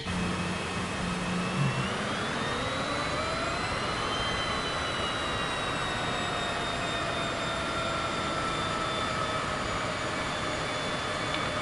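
A Cessna in Microsoft Flight Simulator 2024 takes off from runway 27 at Key West International. The engine drones steadily and loudly, and its pitch rises and shifts as power builds, with no talk over it.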